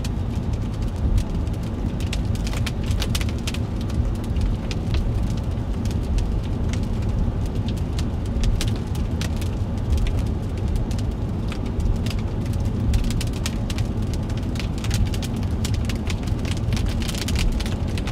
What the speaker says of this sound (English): Fat raindrops.